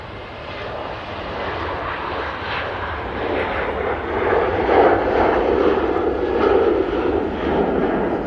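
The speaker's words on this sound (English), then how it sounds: "Next out, we have the Jet 2. It's going to Palma." A Jet2 Boeing 737-800 taking off from Manchester Airport for Palma gives a steady, broad engine roar that swells slightly as it climbs, heard from a distance with no voices.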